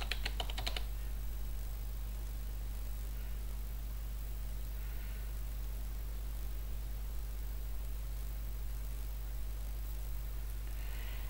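A brief burst of computer keyboard typing as a password is entered opens over a loud, constant electrical hum, followed by only a few faint scattered taps.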